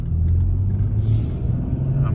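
A BMW X5 Sport with a six-speed manual gearbox pulls away in second gear, its engine a loud, steady low rumble heard from inside the cabin, rising slightly in tone as it moves off.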